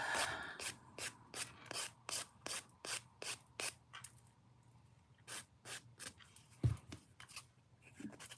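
A nail file filing a fingernail into an almond shape, quick rhythmic rasping strokes in a steady run, then sparser strokes after a pause, close and soft with a faint background hum.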